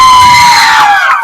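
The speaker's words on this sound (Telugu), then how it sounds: "ఒక్కసారి గట్టిగా చెప్పట్లేండి" Passengers on a tourist boat cruising the Godavari toward Papikondalu cheer and shout in a loud, dense crowd roar with excited high-pitched voices, swelling briefly and then trailing off.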